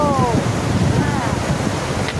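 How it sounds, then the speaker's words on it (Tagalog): Strong wind buffeting a microphone outdoors, a constant roaring rumble with faint surf-like wash and bits of distant voices. "Ang lakas ng hangin dito."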